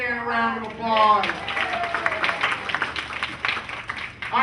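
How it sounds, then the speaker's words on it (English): An audience at a magic show for seniors breaks into applause, a burst of clapping that starts after a voice and rises quickly. The clapping then holds steady with loose, uneven hand claps. "Let's give Ann a round of applause."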